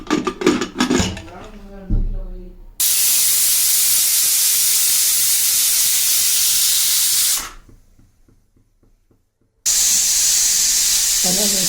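A pressure cooker of tomato and beetroot soup whistling and venting steam: after a brief metallic rattle, two loud sustained hissing bursts separated by a quiet gap, close and harsh.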